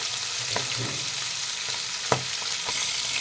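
Steady sizzling of fish pieces frying in hot oil for doi katla, with a few soft clinks and taps from a utensil, no voices.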